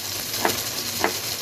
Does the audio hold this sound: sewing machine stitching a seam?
no